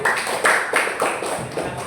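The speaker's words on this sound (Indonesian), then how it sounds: "Ya, tepuk tangannya untuk kelompok 1." Classroom applause from students at an Islamic junior secondary school, honoring group 1 after its presentation. Brisk, fairly close clapping from a small crowd runs steadily for about two seconds, with faint voices underneath.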